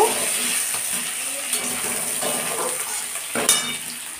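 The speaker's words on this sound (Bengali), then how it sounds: "একটু জিরে ফোড়ন দিয়ে আলুগুলোকে দিয়ে দিলাম। আলুগুলো হালকা ভেজে নেব।" Potatoes frying in a pan with cumin seed tempering, a steady close sizzle broken by occasional scrapes and clinks of a utensil stirring against the pan.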